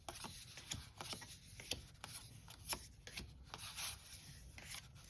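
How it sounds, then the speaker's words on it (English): A deck of tarot cards being shuffled up close, with soft repeated riffling and rubbing sounds in a quiet room. "they feel really nice to shuffle"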